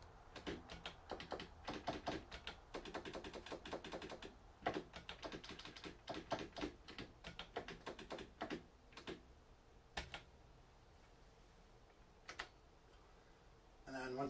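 Buttons on a four-player pedestal arcade machine are pressed in quick clicky bursts, then in sparser single taps, close and fairly faint, to type a game name.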